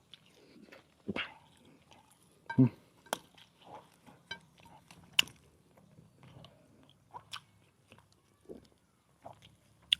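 Someone eats spicy Thai papaya salad with fermented fish and crispy pork up close, with crunchy bites and wet chewing in irregular bursts, a few sharp and louder than the rest.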